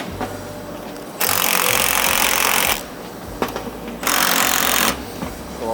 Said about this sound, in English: Reinstall that top retaining nut.